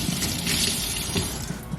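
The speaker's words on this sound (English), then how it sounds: "these seeds I'm gonna wash off literally in the faucet" Water runs from a faucet in a steady, splashing gush close by, with slight shifts as pepper seeds are rinsed under the stream.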